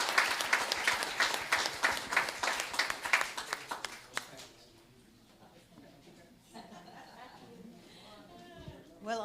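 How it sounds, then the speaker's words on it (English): Brisk clapping from a small community meeting audience for the sales team, a rhythmic burst of claps for about four seconds that fades into quiet room sound with faint murmuring. "big applause for the entire sales team, including Abby as well"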